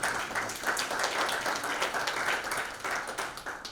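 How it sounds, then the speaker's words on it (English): An audience at an energy industry panel briefing applauds the panel with a steady mass of clapping, moderately distant and fairly quiet. "Can we please give them a round of applause?"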